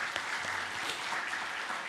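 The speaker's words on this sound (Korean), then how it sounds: "박수 한번 드립시다, 여러분." Brief burst of congregation clapping in a Korean church service, steady and moderately distant, filling the hall for a couple of seconds.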